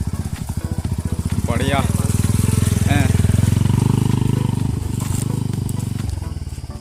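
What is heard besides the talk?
BMW motorcycle arriving through the jungle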